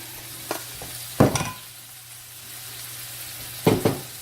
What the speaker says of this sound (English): We're going to give the bacon a stir.